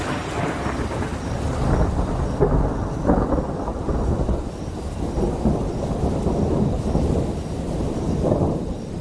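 A thunderstorm rumbles on continuously, with deep rolling thunder over a steady wash of heavy rain.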